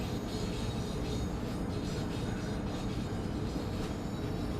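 Amtrak train hauled by an ACS-64 locomotive in Train Sim World 6, rolling through a tunnel and interlocking on the Northeast Corridor: continuous loud rumbling wheel and track noise with faint squeals, no talking.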